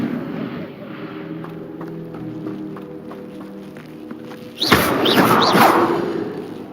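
An Incendio fire spell is cast in the Hogwarts Legacy video game, a sudden whooshing burst of flame over a steady hum of game music and ambience, followed by crackling, swirling magical effects.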